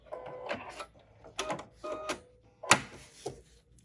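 Sewing machine stitching an appliqué, heard in short, quiet bursts of rapid mechanical whirring separated by brief pauses.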